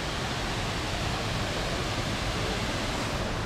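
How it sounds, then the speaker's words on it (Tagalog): A waterfall roars as a dense, steady wash of broadband noise, loud and close, with no voices over it. "Ito yung na yung waterfalls guys."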